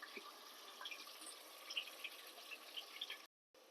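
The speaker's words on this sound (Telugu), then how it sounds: "ఇప్పుడు ఇందులో వాటర్ పోసేసుకుందాం" Water pours steadily into a pot for mutton dum biryani, a continuous splashing rush that runs for about three seconds and then stops abruptly, with no talking.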